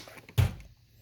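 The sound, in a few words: tool box supply drawer being opened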